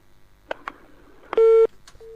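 A telephone call dropping on a radio call-in line: a few clicks, then a short steady busy-type tone, silence, and the tone starting again, clear and isolated.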